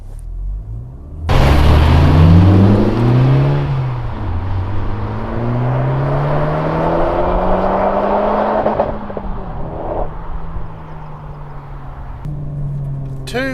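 A Honda Civic Type R runs a lap of a racetrack, its engine rising and falling in pitch through the gears with a steady loud drone and road rumble heard from inside the car.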